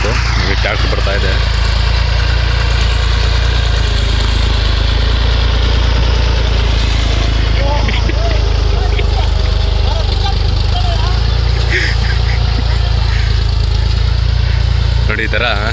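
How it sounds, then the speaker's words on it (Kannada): A tractor driving across a farm field covering freshly sown coriander seed, its engine a loud, continuous close drone with steady vibration, and voices talking over it. "ಈ ಟ್ಯಾಕ್ಟ್ರ್ ಬರ್ತಾಯಿದೆ"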